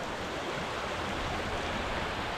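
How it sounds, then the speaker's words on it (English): The Woonasquatucket River flows at night, a steady, dense rushing hiss of moving water, close and unbroken for the whole stretch, with no talking. "But you can see the river is flowing."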